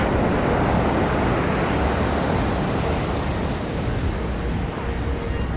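Ocean surf washes continuously onto a beach where a tide is rising, a dense steady roar of breaking waves mixed with wind buffeting the microphone, close and loud throughout without a break.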